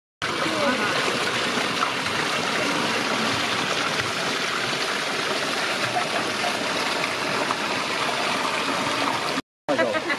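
Water pours steadily from an old stone spring spout in Gamshali village in Chamoli, a continuous broadband rush and trickle heard up close, unbroken almost to the end and with no talking over it.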